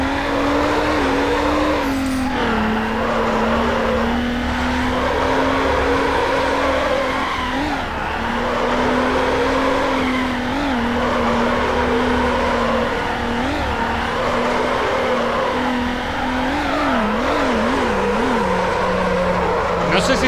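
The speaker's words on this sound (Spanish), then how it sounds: "tenemos un derrape genial" Race car drifting through corners in Need for Speed Underground 2, a Subaru Impreza with a steady loud engine drone and repeated tire skids and squeals, with occasional whoops of engine pitch throughout.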